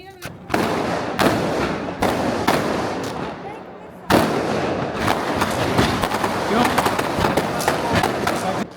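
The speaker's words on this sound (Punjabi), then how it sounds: "ਆਹ ਦੇਖ ਪਿੱਛੇ ਪਟਾਕੇ ਚੱਲਦੇ" Diwali firecrackers burst in a village in rapid, sharp cracks, with short pauses between the clusters of bangs. They are loud and fairly close, and voices talk under the noise.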